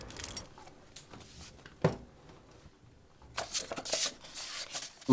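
Keyring loaded with survival tools jangling and clinking, with metallic rattles in short bursts near the start and a louder, denser jingle toward the end, close and fairly quiet.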